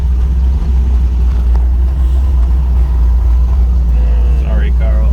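A project car nicknamed DeathTrap, out on the road on the way back to a shop, makes a steady, loud, low engine rumble that continues without a break throughout.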